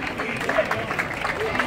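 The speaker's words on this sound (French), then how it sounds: "L'ange gardien, on les applaudit." A crowd applauding participants at a Montreal skyscraper stair-climb challenge, dense continuous clapping mixed with cheering voices and chatter, lively and close throughout.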